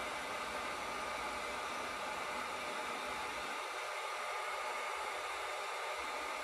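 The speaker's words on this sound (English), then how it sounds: "And this works better with a heat gun than a torch." Heat gun warming the end of a PEX plumbing pipe, a steady hissing blower roar at constant level throughout, with a slight change in tone midway and no talk.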